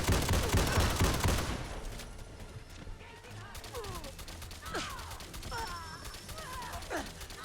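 Rapid bursts of automatic shotgun fire from the prototype AA12 assault shotgun in Fallout 4 open loud and dense, then thin into scattered shots and harsh game effects while someone talks over the action.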